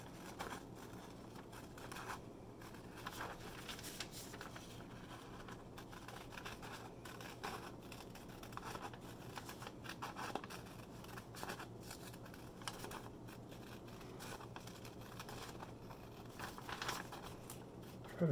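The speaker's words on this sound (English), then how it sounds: "Take a pair of scissors, cut out that circle as close to and on top of that line as you can." Quiet, repeated snipping and paper rustle as scissors work steadily around a shape, soft and close with no voices.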